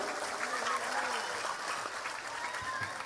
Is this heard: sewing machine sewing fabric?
no